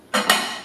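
A plate set down over a bowl of food to cover it before microwaving, giving two quick clinks of ceramic close by followed by a short ringing decay.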